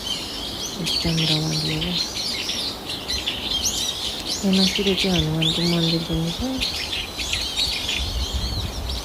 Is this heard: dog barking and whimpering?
no